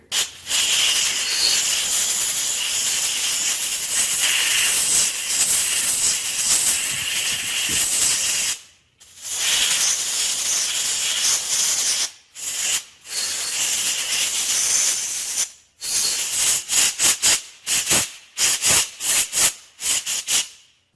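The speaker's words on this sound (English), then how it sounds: "I'm going to just gently use some compressed air here" Compressed air hisses in long, loud blasts over an engine valve seat to clear metal chips after seat cutting on a Simplicity 560, then breaks into short repeated puffs toward the end.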